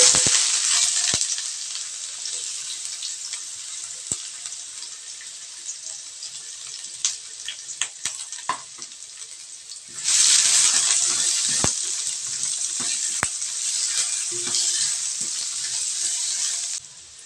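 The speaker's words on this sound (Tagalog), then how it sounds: "Ilagay lang tayo ng mantika sa kawali. Iuna lang natin yung luya." Ginger dropped into hot oil in a pan for paklay: a loud, continuous sizzle that eases slightly, then surges again partway through, dotted with clicks and pops.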